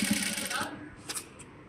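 A sewing machine stitching a blouse, a short burst of rapid mechanical needle clatter close by that stops after under a second, followed by faint clicks.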